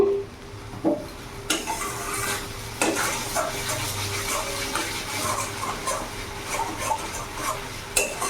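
A rohu fish curry with ground poppy seed and cashew paste being stirred in a pan over a gas flame, with scraping strokes, a soft sizzle and clinks against the pan, close and steady, with no talking.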